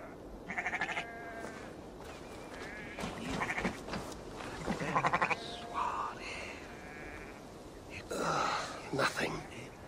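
Sheep bleating in Assassin's Creed Valhalla, several wavering, nasal bleats in separate bursts, with some soft, whispery breathing between them and no clear speech.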